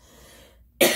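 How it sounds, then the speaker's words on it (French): A single sharp cough bursts out near the end after a brief quiet moment, close and loud. "Excusez-moi, il faut encore que je tousse."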